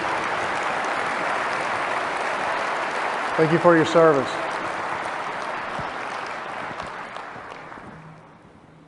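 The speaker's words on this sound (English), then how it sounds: "Let's give them a round of applause." An audience claps for veterans standing in a speaking venue, a dense sustained round of applause under a voice, tapering off near the end.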